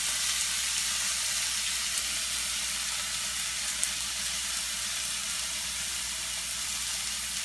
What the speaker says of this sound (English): That pan is hot. Go ahead and add your onions. And we're going to add a garlic.